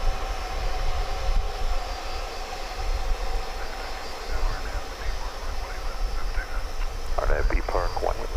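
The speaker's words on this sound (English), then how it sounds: "We say aloha to this A300 we saw landing a few minutes ago. Now getting ready to dock at the UPS terminal" A UPS Airbus A300 taxis toward its terminal dock at an airport, its engines a steady, loud whine and rumble with no breaks.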